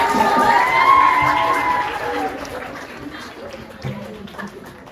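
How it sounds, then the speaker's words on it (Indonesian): A crowd at an Islamic student speech event cheers and shouts loudly, then the noise gradually fades into scattered clapping and murmuring. "kasih tepuk tangan sekali lagi buat Raja."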